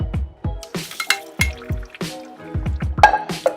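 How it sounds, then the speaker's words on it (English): Cooked broccoli tipped into a colander to drain: a string of close wet plops and drips with irregular spacing, some clattering, and splashing water trickling through. "So what we're actually gonna do is put it into our colander."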